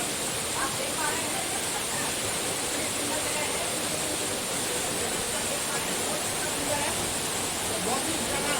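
Juddo waterfall near Dehradun, where a dam has been built, roaring as a steady, dense broadband rush that holds even and unbroken throughout.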